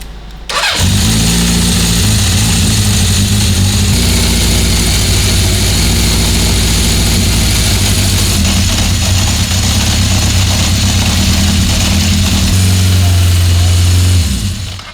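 A 1976 Honda CB750F1 motorcycle engine cranks and catches, then runs steadily at a fast, loud idle, set too high during carburettor balancing, with the note rising briefly near the end before it cuts.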